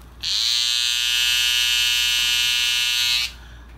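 A Caliber Laser+ cordless hair clipper switches on with a sharp, loud buzzing whine, runs steadily for about three seconds, then cuts off abruptly.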